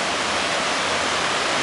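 Water of the Cali river in Santiago de Cali, Colombia, rushes steadily in a dense, close, unbroken roar with no voices.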